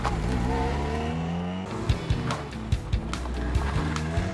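Racing cars, including a Ferrari, run on the Donington track, with engines droning and revving continuously at close range and brief sharp tire or gear noises through the passage.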